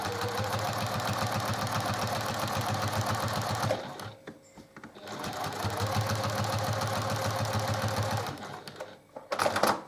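A sewing machine stitches in the ditch through fabric, a fast, steady mechanical chatter of needle strokes that runs near and loud, pauses briefly, resumes, then stops again.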